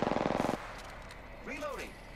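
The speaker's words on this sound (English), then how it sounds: "Opening fire on the enemy" Half a second of rapid automatic gunfire in the Apex Legends video game, loud and close, followed by quiet background and a short voice.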